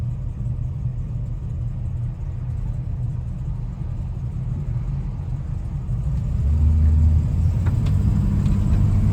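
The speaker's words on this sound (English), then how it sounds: "I'm going to take this Camaro for a test drive and see how it does." A 1967 Chevrolet Camaro engine on a test drive, a steady low rumble from inside the car that swells louder partway through as it accelerates.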